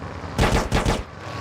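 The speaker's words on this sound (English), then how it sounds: "Now we're getting shot at, we got a wanted level." Rapid automatic gunfire in a Los Santos open-world game while a wanted level kicks in, two quick loud bursts of shots close together, cutting off abruptly.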